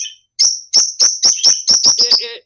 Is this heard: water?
no